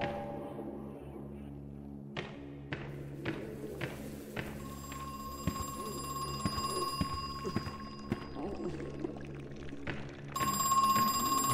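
A telephone ringing in the horror video game Crow Country, a steady tonal ring over a low droning ambience with sparse clicks and thuds, growing louder toward the end.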